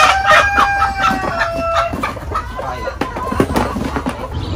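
A flock of chickens on a poultry farm clucks busily and without pause, and roosters crow through the din. The whole mass of birds sounds close and fairly loud.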